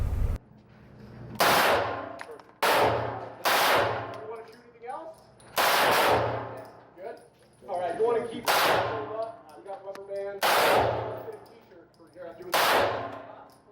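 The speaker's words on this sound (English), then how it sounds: "let's go shoot some guns" Guns fired one at a time at a shooting range: about seven sharp, loud reports, roughly evenly spaced, each ringing out with a decaying echo.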